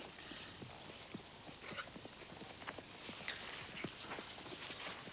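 A horse walking at a slow, lazy pace in an indoor riding arena, its hooves giving soft, irregular clip-clop thuds on the footing, fairly faint against a steady background hiss.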